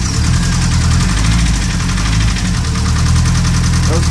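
Nissan S13 engine running after four years in storage with ticking lifters: a loud, close, steady idle with a rough, rapid mechanical pulse throughout.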